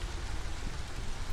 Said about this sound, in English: So year 8, drizzle season finally.